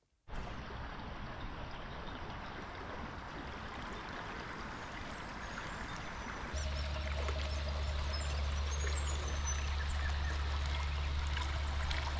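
A river flows beside a riverside lunch stop on a four-wheel-drive camping trip, a continuous rushing of water that grows louder and deeper partway through, with no voices.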